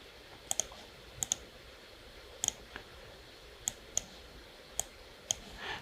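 Mouse clicks while a mask shape is drawn with the Pen tool in Premiere Pro editing software, arriving as several sharp single and double clicks spread irregularly over a faint background hum.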